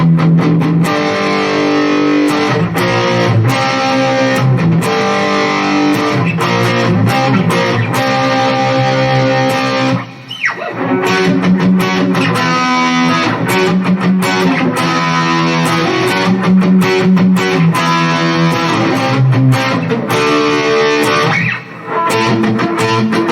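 An Epiphone Les Paul Special II plays through an amp on factory-default distortion cranked to maximum, loud saturated chords and riffs ringing continuously with two brief dropouts.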